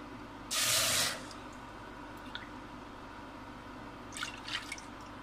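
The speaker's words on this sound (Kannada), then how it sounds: "ಈ ಪಾತ್ರದಲ್ಲಿ ನಾನು ಹಾಲು ಹಾಕೊಳ್ತಾ ಇದ್ದೀನಿ" Milk poured into a cooking pot for making vermicelli payasa (shevige paisa); one short gushing pour near the start, then a few small drips and splashes later, close up, with no talking.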